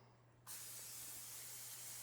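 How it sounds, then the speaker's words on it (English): Cooking oil spray hisses steadily onto a hot pan while preparing sesame tuna, starting abruptly after a brief quiet moment and continuing loud and broadband to the end. "I'm going to spray that."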